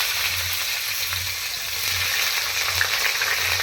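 Chopped onions frying in oil on a stove for chicken kosha, a dense steady hiss of sizzling with a faint low rhythmic hum underneath, close and even throughout, no speech.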